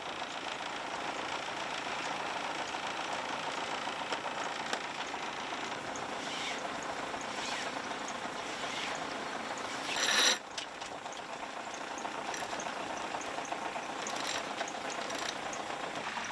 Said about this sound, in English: Are we ready to turn off the engine?